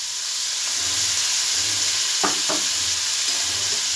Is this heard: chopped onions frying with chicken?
yes